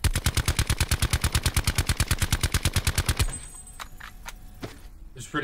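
Rapid sustained bursts of suppressed KN rifle fire in Call of Duty Blackout, evenly spaced shots for about three seconds, then stopping, followed by a few faint clicks and scattered distant sounds.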